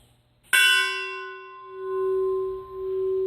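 A metal cylinder bell, 9 1/16 inches in outside diameter, struck on its top: one sharp close strike followed by a bright ringing tone that sustains and slowly beats as it decays, heard alone.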